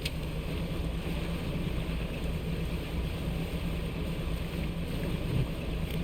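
Upgraded boat engine in the Dredge video game, a steady, loud motor drone with rushing water and wind noise, continuous and unbroken throughout.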